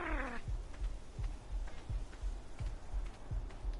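A wild cat creature in Ark: Survival Evolved growling in the desert, a low rhythmic rumble that pulses steadily and softly through the whole stretch, with a brief higher cry at the start.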